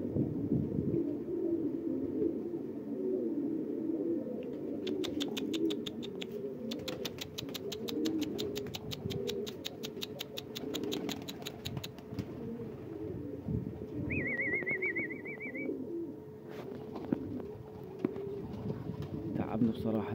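Pigeons coo in soft, repeated throaty phrases during a morning outdoor hunt, with fast clicking bursts and a brief higher chirp in between, under low murmuring voices nearby.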